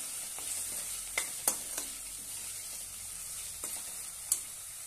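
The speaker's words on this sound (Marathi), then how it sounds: "1 चमच लाल तिखट घालूया आणि छानपैकी परतून घेऊया।" Spices including red chili powder and garam masala being sautéed and stirred in a pan for kala chana pulav: a faint steady sizzle with several light spoon taps and scrapes against the pan, no voices.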